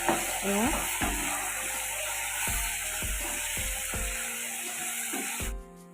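Vegetables frying in a pan as garam masala powder is stirred in, with repeated scraping strokes of a spoon over a soft sizzle and a steady background hiss.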